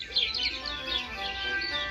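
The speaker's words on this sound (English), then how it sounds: "There were now more birds chirping than ever before." Many small birds chirp and tweet continuously around a newly built birdhouse, a busy layered chorus at moderate distance with no talking.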